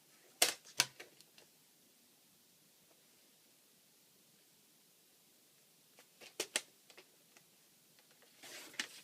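A paper trimmer slices paper for a handmade notecard and envelope project, giving a few sharp close clicks and cuts near the start, a quiet pause, then another cluster of crisp snaps and a soft rasping slide at the end.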